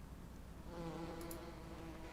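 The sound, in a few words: bees buzzing in video game Farming Simulator 17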